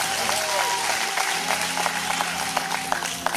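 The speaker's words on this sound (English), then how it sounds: "Yeah, we can clap for that." Church congregation clapping after a sermon reading, a moderate broadband patter of hands with sharp individual claps standing out, while a voice speaks over it.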